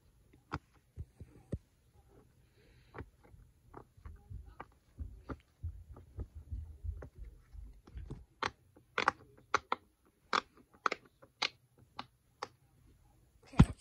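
A pop-it fidget toy is pressed in a string of crisp, sharp little pops, close and isolated. They come irregularly at first, then grow louder and more spaced toward the end.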